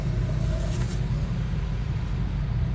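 An LIRR M3 electric commuter train of ten cars passes close by on the Main Line, a steady loud low rumble with rhythmic wheel and rail clatter throughout.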